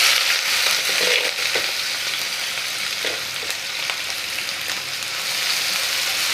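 Chopped onions fry in oil in a pan for a broiler chicken curry, giving a steady close sizzle with occasional scraping and stirring knocks.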